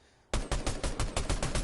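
Video game gunfire erupts suddenly after a quiet moment into a loud rapid burst of shots, about nine closely spaced reports in an even automatic rhythm, with no voices.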